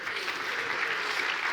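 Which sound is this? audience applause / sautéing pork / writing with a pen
audience applause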